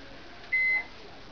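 A Brastemp Maxi microwave oven gives a single short electronic beep on cancelling, a clean steady tone lasting about a third of a second over faint room hiss.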